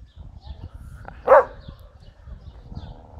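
A dog barks once at a cat, a single sharp, close bark rising out of quiet background rumble and faint murmuring.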